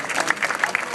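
Audience at a photography talk at a digital show in Melbourne breaks into brief applause, a burst of crowd clapping lasting about a second.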